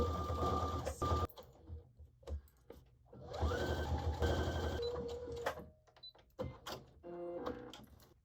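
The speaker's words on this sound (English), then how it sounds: "Needle down, 2 stitches backwards, and then we're going to sew across." Sewing machine running a top stitch across a hoodie, several bursts of steady whirring with short pauses and a brief back-stitch at the start, close and clear.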